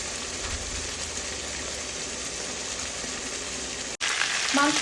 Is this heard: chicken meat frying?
yes